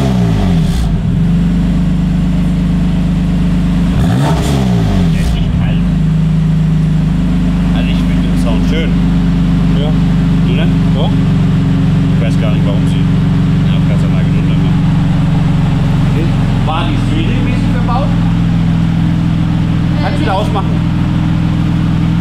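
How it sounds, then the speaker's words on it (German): A BMW M4 fitted with an M Performance exhaust system revs up loudly close by, with throaty bursts of throttle over a steady running engine, while people talk over it. "gib mal ein bisschen Gas, bitte."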